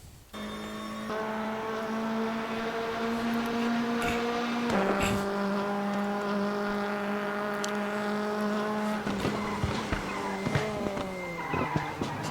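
Lada race car lapping the Salzburgring in a racing video game, the engine droning loud and close, pitch stepping up through the gears then dropping, with tire squeal and skids toward the end.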